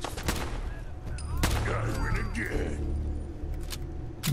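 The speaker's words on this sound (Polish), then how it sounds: "ktoś do mnie strzela." Bursts of Fallout 4 gunfire crack out in quick succession, sharp shots over a dense, noisy background with some voice underneath.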